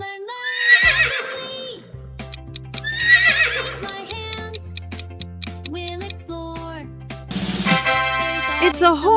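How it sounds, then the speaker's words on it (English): Two long, shrill horse whinnies ring out over a bouncy musical backing, followed near the end by a shorter neigh, all close and loud. "It's a horse."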